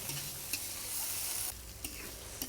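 Chopped greens are stirred in a hot pan, a steady sizzle broken by a few scrapes of a spatula, close and fairly quiet with no talking.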